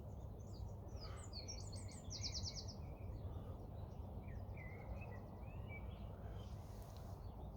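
Long-tailed tits calling beside a canal: high, thin chirps and buzzy trills in scattered bursts, fairly close, over a steady low broadband rumble of background noise.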